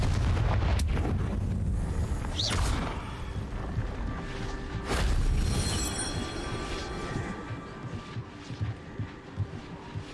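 A Confringo fire spell bursting in Hogwarts Legacy, a sharp blast with a deep rumbling boom, a second impact a few seconds later, then fading crackles and game ambience.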